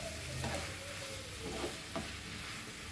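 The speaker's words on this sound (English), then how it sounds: "Mix this all so that it gets all this salt and all this flavor and they all get mixed together" Small squid stirred with salt and spices in a pan for a Goan chilli fry, giving a close, steady sizzle broken by a few scraping strokes of a spoon.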